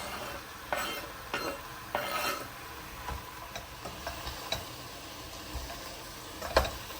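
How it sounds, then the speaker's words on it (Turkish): Spoon stirring green beans with tomatoes in a pot. Scattered scraping and clinking strokes sound over a soft, steady sizzle, with no voices. "Tekrardan karıştırıyorum."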